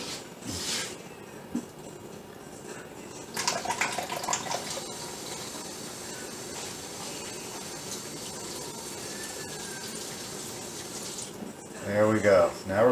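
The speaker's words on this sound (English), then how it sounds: "let's get a little bit more water in there." Tap water pours into a cooking dish in a steady, moderate stream, with a few brief clatters and splashes; a person talks over it now and then.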